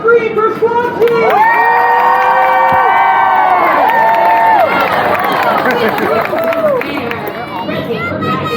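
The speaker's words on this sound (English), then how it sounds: "So come on and scream for Squatchy!" Crowd at an all-star stunt dog show at the State Fair of Texas screaming, cheering and whooping loudly and continuously, with shrill children's shouts rising above the roar for several seconds.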